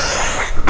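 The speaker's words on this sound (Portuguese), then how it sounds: "Ainda bem que a tosse só veio agora." A single short, sharp cough near the end, close and loud after a brief quiet moment.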